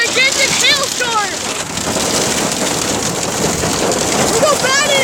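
Heavy hail pounding down during a supercell thunderstorm, a dense steady roar of impacts close by, with excited human shouts and voices breaking through over the din.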